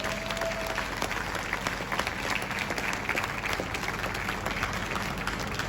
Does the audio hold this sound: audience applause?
yes